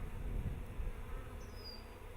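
Honeybees buzz around a new hive during installation of a bee package, a soft continuous hum close by, with one brief higher buzz passing midway.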